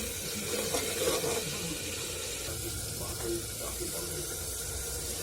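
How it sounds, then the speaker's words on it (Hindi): Leftover water from boiled kidney beans pours into a pan of tomato and spice gravy, a steady close splashing trickle that runs for several seconds with no talk. "उबले हुए राजमा का जो पानी था बचा हुआ, हम वो भी इसमें साथ में ही डालेंगे।"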